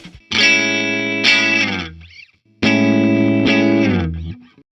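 Two sustained, bright electric guitar chords through a compressor pedal, each ringing evenly for over a second before sliding down and stopping, with a short gap between.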